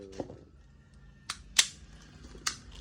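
T-Rex Hi-Capa airsoft pistol being test fired, giving three or four sharp, brief snaps spaced irregularly, close and fairly quiet against a faint background.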